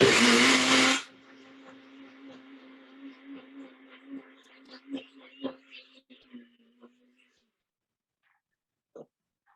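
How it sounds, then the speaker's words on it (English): A small NutriBullet blender whirs loudly for about a second blending a small batch, then cuts off, followed by quieter kitchen clatter and handling noises fading into near silence. "I'm just using my NutriBullet today because it's such a small amount."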